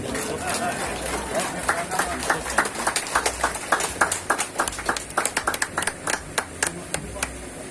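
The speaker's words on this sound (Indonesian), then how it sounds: "Kita beri aplaus untuk beliau." Applause at a farewell event for the departing Indonesian ambassador to Brunei, a crowd clapping in a steady patter that grows more pronounced, with chatter and talk mixed in.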